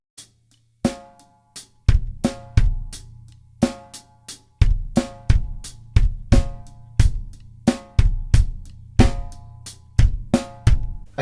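Drum kit laying down a steady pop groove, with punchy kick and snare and accented hi-hat strokes repeating evenly over four bars, close and loud with no voices.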